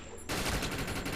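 Gunfire in the video game Defiance cuts in abruptly after a short quiet moment, then continues as a dense, rapid burst of shots held at a steady loudness.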